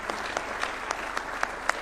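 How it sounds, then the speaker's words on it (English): Steady applause from an audience honouring the president at a university launch event in Nairobi, dense and continuous with a few sharper individual claps standing out at regular intervals. "Another round of applause for His Excellency."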